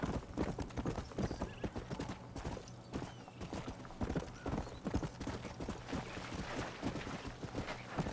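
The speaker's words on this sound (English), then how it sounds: "Vai, cavalo." Horse hooves clip-clopping at a fast gallop in the Red Dead Redemption video game, a steady rapid rhythm of hoofbeats with an occasional whinny, loud and continuous throughout.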